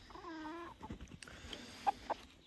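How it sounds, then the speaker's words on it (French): White bobtail chickens in a farm enclosure, one faint drawn-out cluck, then soft scuffs and two brief sharp peeps against quiet outdoor background. "Donc là il y a les poules blanches bobtail."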